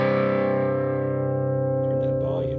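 An electric guitar chord through a Lil Rat distortion pedal rings out thick and buzzy, loud and close, slowly decaying over a couple of seconds with slight string noise near the end.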